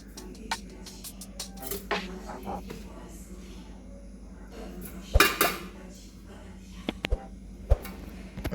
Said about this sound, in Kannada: ಈಗ ಇದು ಒಂದು ಡಬ್ಬ್ಯಾಗ ಹಾಕಿ ಮುಚ್ಚಿಡ್ತೀನಿ.